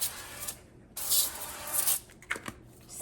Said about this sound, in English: I'm gonna do a little olive oil spray